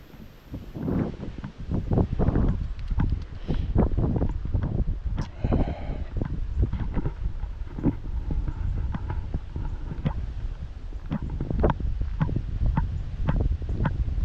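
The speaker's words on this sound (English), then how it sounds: "when it's windy like this" Wind blows outdoors during a walk in Maine, gusty buffeting rumbles and rustling hitting the microphone in irregular bursts, loud and close, with no talking.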